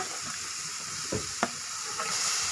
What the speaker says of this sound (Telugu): టమాటా కానీ వేసుకొని మనము ఈ విధంగా బాగా ఫ్రై చేసుకోవాలండి